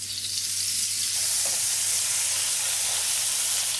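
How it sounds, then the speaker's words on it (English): A beef roast browns in a frying pan of oil and butter, giving a steady, close sizzling hiss with a faint low hum throughout and no talking. "I'll add some oil and some butter into my frying pan."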